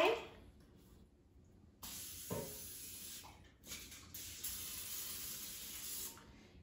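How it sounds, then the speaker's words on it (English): Quiet hissing bursts of non-stick cooking spray onto an air fryer basket, a few short presses then a longer steady spray, close by with faint background clatter. "let me spray the basket with a non-stick cooking spray"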